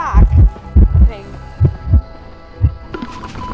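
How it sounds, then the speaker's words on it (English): Heartbeat warning cue in a multiplayer video game, a loud close thumping pulse in paired beats repeating several times over a low hum, with brief voices near the end. "Heartbeat. I got a heartbeat."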